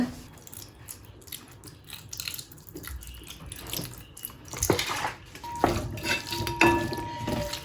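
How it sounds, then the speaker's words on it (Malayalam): Vinegar poured into a Kerala lemon pickle in a pan and stirred in, heard as uneven splashing and liquid trickles with clinks and scrapes against the pan, growing louder toward the end. "ഇനി ഇതിലേക്ക് ഒരു 3-4 ടീസ്പൂൺ വിനാഗിരി ഒഴിച്ചെടുക്കുന്നുണ്ട്."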